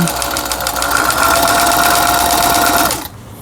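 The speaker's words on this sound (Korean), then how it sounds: "일단은 직선 바느질을 해보겠습니다." A Lion 1804 household sewing machine runs a straight stitch with a steady, close mechanical whir and rapid needle clatter, then stops abruptly near the end.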